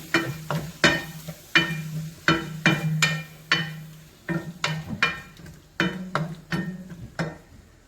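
Curd being stirred into gravy in a pan on a low gas flame, a steady series of sharp scraping and tapping strokes of a spoon against the pan with a soft sizzle underneath, close and without talk.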